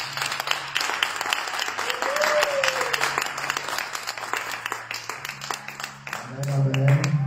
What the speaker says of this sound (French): Est-ce qu'on va acclamer le Seigneur Jésus pour son nom? Acclame encore Jésus